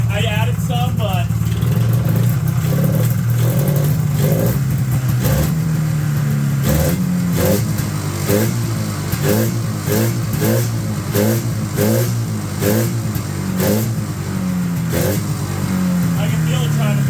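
A 1979 Polaris Apollo snowmobile engine revs up close, its loud, rough two-stroke drone rising and falling through repeated throttle blips, with a person talking over it.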